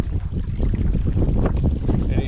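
Gusty wind buffeting the microphone during a canoe trip on a lake in Wabakimi, a loud continuous rumbling roar with faint water sounds underneath.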